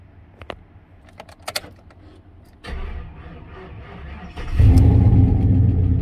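A Chevy Silverado 5.3 V8 with no oil pressure and a noisy condition cranks after a few clicks, then starts and labors with a heavy low rumble that grows louder near the end, close by.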